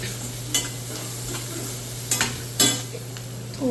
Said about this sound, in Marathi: हळद चांगली तेलामध्ये परतून घ्यायची।